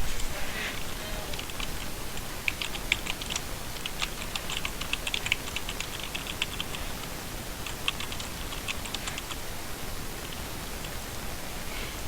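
Keys clatter on a computer keyboard during word processing, a quiet, steady run of light clicks and taps in irregular bursts over a soft background hiss, with no voice.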